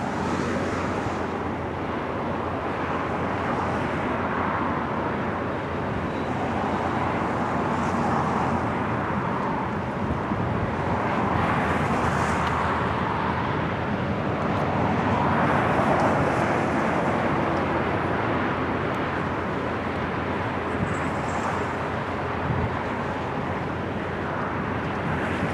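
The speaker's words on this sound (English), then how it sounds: "Yeah, we got some military aircraft." Military aircraft, including a C-130 flying touch-and-goes, at Fort Worth Naval Joint Reserve Base with its single 12,000-foot runway: a steady, distant broadband roar that swells gently in places, with no talking.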